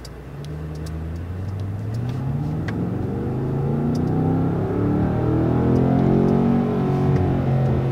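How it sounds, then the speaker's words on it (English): A 2019 Mercedes-AMG S63 Coupe engine in race mode revs up and accelerates hard, the low rumble rising steadily in pitch and loudness with no talking. "Set to race mode, so the engine is way more aggressive."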